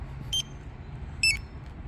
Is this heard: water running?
no